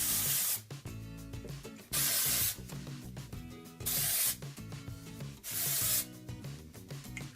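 Dry shampoo sprayed from an aerosol can into the roots of hair, four sharp hissing bursts of about a second each, with shaking, rubbing and handling noises between them, heard close.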